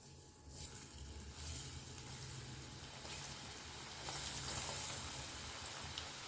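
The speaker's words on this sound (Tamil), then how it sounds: "அப்பப்போ 2 பக்கமும் நல்லா திருப்பி விட்டு ஃப்ரை பண்ணிக்கலாம்" Sweet potato pieces frying in hot oil, a steady, faint, hissing sizzle that rises and falls slightly, close by and heard on its own.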